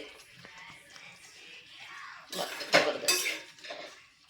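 A spoon clanks and scrapes against a pan while ghol leaf vegetable is stirred with jaggery. The sound is quiet at first, then a few louder metallic scrapes come close together near the middle.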